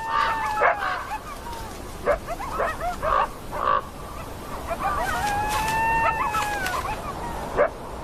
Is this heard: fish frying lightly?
no